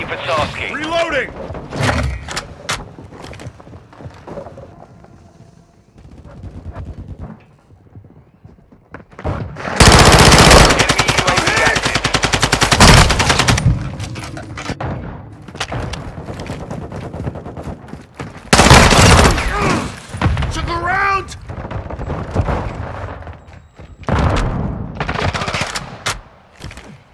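Bursts of automatic machine gun fire in Call of Duty Modern Warfare 2 multiplayer, loud and close, with long sustained volleys and short intermittent shots separated by quieter gaps.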